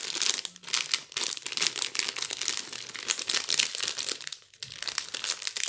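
Packaging crinkles and tears during the unboxing of a Halloween art kit with pink wax, a close, steady run of rustling plastic and paper with brief pauses.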